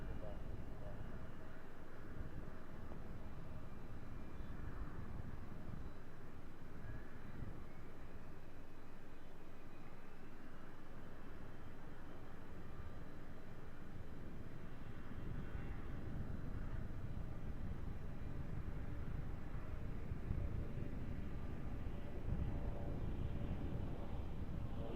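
An Endeavor Air airliner taking off from runway 5 left at Raleigh-Durham makes a steady, distant engine roar that builds slightly over the stretch, with radio talk heard faintly in places.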